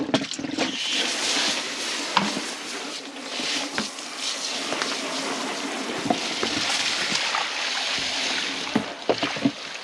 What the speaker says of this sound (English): You turn your hose on.